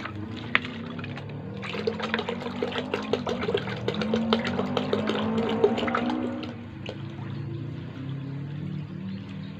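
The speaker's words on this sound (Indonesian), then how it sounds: "Dilanjut masukkan juga air berasnya." Rice-washing water pours steadily into a container, a close continuous gurgling splash that rises in pitch as it fills, then thins out and tails off near the end.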